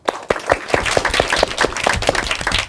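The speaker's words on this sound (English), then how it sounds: "I'd like to hear that big round of applause for yourself." A small group claps loudly and close by, with sharp, distinct handclaps in an uneven rhythm and no one talking.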